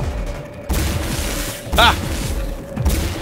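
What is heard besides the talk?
enemy shooting at player in the video game Singularity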